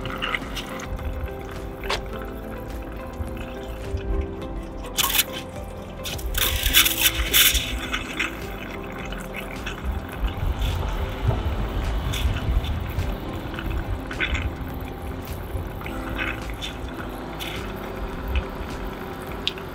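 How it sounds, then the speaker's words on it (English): The kitchen sink faucet of a 2023 Voyager RV sputters while air blows water out of the lines during winterization, giving a continuous noisy hiss broken by irregular spurts and louder gushes near the middle, with no voices. "once you feel confident that you've sufficiently blown out all of the water out of the lines, both on the cold and on the hot side"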